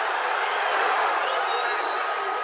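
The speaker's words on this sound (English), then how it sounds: "The crowd cheering on any little thing to try and get their man out" A boxing arena crowd at a heavyweight bout keeps up a steady, distant roar of cheering and murmur, a dense wash of many voices without distinct claps or words standing out.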